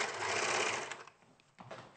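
Domestic sewing machine stitching fabric: a short whirring burst of rapid stitches that stops after about a second, then a brief restart.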